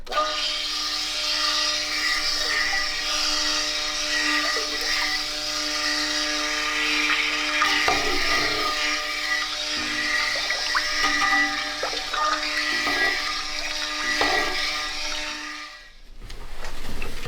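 Honey is blended into the oils for a honey, butter and tallow soap, making a steady, even whirring drone with a faint watery churn that stops abruptly near the end.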